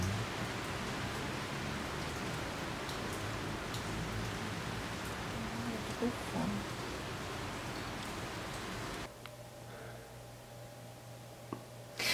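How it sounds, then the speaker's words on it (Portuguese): Steady rain pours down as a loud, even hiss that drops off sharply near the end, with a brief spoken word. "Tô filmando a chuva."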